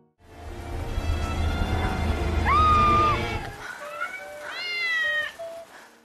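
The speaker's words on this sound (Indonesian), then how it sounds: "siluet itu adalah 3 kucing yang gemoy" Several cats meow in turn, drawn-out wavering cries, the first over a low rumbling hum that cuts out, followed by higher, more plaintive mewing.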